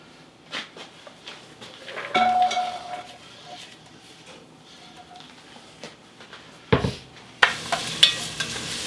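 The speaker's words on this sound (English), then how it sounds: "I'm going to saute this mirepoix to give it that cooked vegetable flavor" Mirepoix vegetables sauteing in olive oil in a pot, a soft sizzle with scattered stirring scrapes and a few louder clatters of the utensil near the end, close and moderately quiet, no talking.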